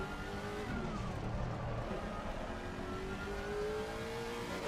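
Racing car engine in the Assetto Corsa Competizione sim at Oulton Park, a Porsche or BMW GT car roaring continuously with rising and falling revs through gear changes and a brief tyre squeal, loud and close throughout.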